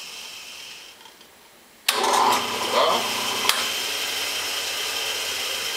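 A Rockwell milling machine power-tapping a hole switches on abruptly partway through, then runs as a loud, steady mechanical whir with a sharp click midway, close and continuous to the end with no voices.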